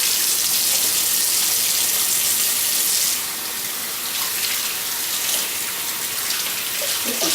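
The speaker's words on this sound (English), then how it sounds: "I'm going to wash my hands real quick." Hands washed with antibacterial soap under a running kitchen tap, a loud steady gush of water that shifts in tone partway through as the hands move in the stream.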